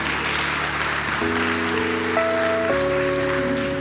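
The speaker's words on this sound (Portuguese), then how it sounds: "Vamos aplaudir essas pessoas também." An audience at a talk applauds in a steady, dense patter, with a sustained organ-like musical tone playing over the clapping.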